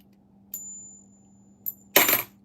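A 1971 half dollar coin drops against another half dollar, giving two bright metallic clinks followed by a louder clattering ring, close and alone in a quiet room.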